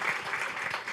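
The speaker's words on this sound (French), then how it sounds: "On applaudit Bertrand" An audience at a talk on youth-led AI projects applauds a speaker, and steady, dense clapping fills the whole moment.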